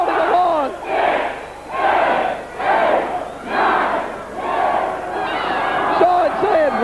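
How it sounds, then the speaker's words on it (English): A wrestling crowd at a TWA event chants a count in unison, six loud rhythmic shouts about a second apart, the arena roaring between them. "The crowd counting along."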